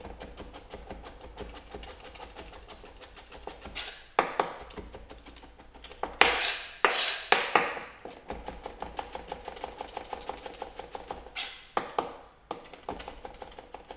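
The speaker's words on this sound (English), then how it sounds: "today we'll just go ahead and push cut through a shallot" A sharp knife push-cuts through a shallot on a board, producing a steady run of soft, close chopping taps with a few louder crisp strokes in the middle, with no voices present.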